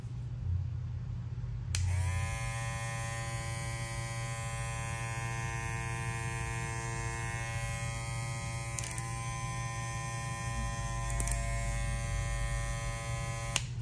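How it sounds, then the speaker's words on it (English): Gray graphite hair clipper buzzing steadily up close, its motor hum starting shortly after a quiet opening and holding even, with a couple of brief clicks along the way. "Next up, we're going to have the gray graphite color clipper."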